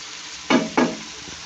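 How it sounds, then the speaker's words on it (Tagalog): A spatula makes two quick scraping stirs, close and fairly loud, through mixed vegetables and tofu frying in a pan, with a faint sizzle underneath and no talking. "Pinagalo-halo ko na lang yan."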